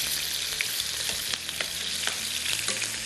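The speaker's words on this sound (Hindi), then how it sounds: "इसको बस इतना फ्राई करेंगे कि हल्का सा कलर आ जाए" Ingredients frying in a pan for fish pulao, lightly browned: a steady, close, broadband sizzle with scattered crackles and pops that runs without pause and without any voices.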